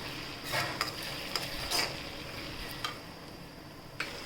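Onion being stir-fried in a pan for idli manchurian, a soft steady sizzle punctuated by several sharp spatula taps and scrapes against the pan.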